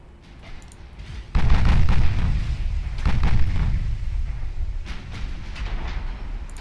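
A warship's turret is struck and destroyed in the naval battle game Ultimate Admiral Dreadnoughts, giving a sudden loud booming impact followed by rolling explosion rumble and a second heavy blast, with lighter distant gunfire cracks later on.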